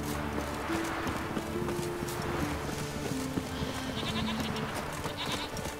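Goats in The Witcher game bleat repeatedly over a steady ambient music bed, with hoof clatter and the animals sounding moderately close.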